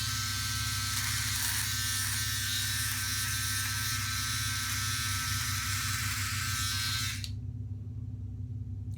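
A Philips OneBlade trimmer buzzes steadily and close while trimming a goatee, its bright electric whine holding for about seven seconds before the cutting sound drops off and a low motor hum remains.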